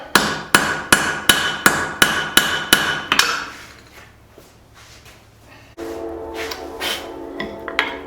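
A hammer forges out a cross peen hammer head, eleven evenly spaced loud ringing blows over about three seconds, then a quiet pause and a burst of lighter taps and rattling near the end.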